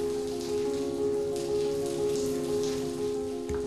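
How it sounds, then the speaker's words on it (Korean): Afternoon rain falling, a steady soft patter on surfaces with a faint constant hum underneath, continuous throughout. "때 이른 더위를 식히는 비가 내리는 오후"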